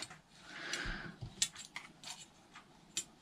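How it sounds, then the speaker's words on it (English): Scissors snip the cord ends off a homemade rose quartz bracelet: a few quiet, sharp cuts with small clicks in a hushed room. "Then we can cut off"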